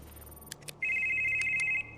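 A telephone rings in the horror game Demonologist: a few short electronic clicks come first, then one steady, sustained ring about a second long at moderate level, with no talk over it.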